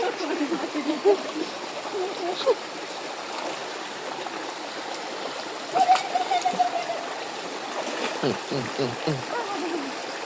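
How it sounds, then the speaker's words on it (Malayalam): A flowing stream babbles steadily close by, with splashes as someone wades in, while a person talks over the rushing water. "ഈ തോട്ടിലെ വെള്ളം ടെസ്റ്റ് ചെയ്യാൻ വേണ്ടി വെള്ളത്തിലോട്ട് ഇറങ്ങുകയാണ്"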